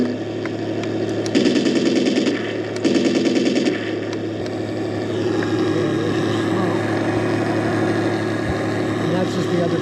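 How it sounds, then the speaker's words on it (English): A 1/16 scale German Tiger RC tank's sound unit runs a steady engine drone, broken early by two bursts of rapid machine-gun fire. "Okay, now this tank is started up."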